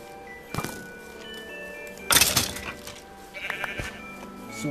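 Sheep in the Minecraft video game bleat in a few short separate calls against quiet background game sounds.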